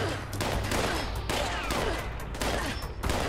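A weapon fires in rapid repeated bursts in the video game Fallout 76, dense loud gunfire with brief gaps between volleys.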